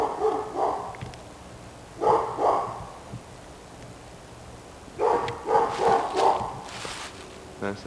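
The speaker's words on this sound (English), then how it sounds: "That's a neighbor's dog barking." A neighbor's dog barks in short bursts of two or three yaps, fairly distant, with quiet gaps between the bursts and a faint background hum.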